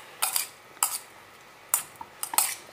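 Utensils clinking and scraping in a bowl while a cucumber avocado salad is tossed, four or five short close bursts of metallic clatter separated by brief pauses.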